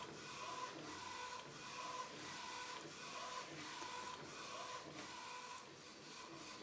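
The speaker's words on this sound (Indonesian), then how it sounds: "Tinta putihnya sudah selesai cetak" A DTG printer prints white ink onto a pretreated cotton t-shirt, its print head sweeping back and forth in a steady, rhythmic whirring rasp with regular carriage pulses, fairly quiet and continuous with no voices.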